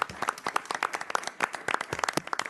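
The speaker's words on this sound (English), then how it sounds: "And always a big round of applause." Audience applause at a South Haven, Michigan city council meeting, a steady patter of claps from a modest crowd of family members, moderately loud and continuous throughout.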